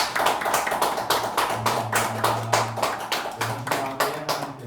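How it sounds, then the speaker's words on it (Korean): A church congregation claps together in thanks during a Wednesday worship service, a steady run of dense hand claps with a low organ or keyboard tone sustained beneath. "우리 감사의 박수."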